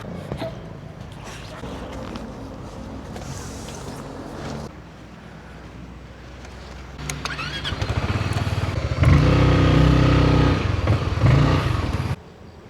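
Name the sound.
motorcycle engine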